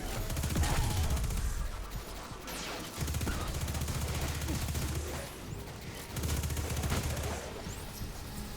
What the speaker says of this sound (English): Oh, I love this SMG.